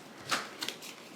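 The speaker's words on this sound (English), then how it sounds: "Shuffle the chancellor card deck." A deck of board game cards from Alma Mater being shuffled, a few quiet crisp riffling bursts close by, alone without talk.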